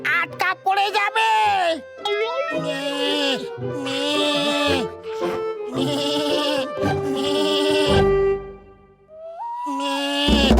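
In a Motu Patlu cartoon episode, a character's voice imitates a goat with a series of loud, quavering bleats in rapid, uneven bursts separated by short pauses, all close and dominant.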